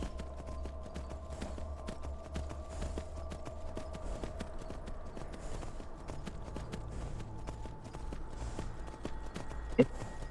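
Rapid, rhythmic hoofbeats of a galloping horse in The Elder Scrolls V: Skyrim, on a mountain, continue steadily over a low hum, with a brief sharp thump near the end.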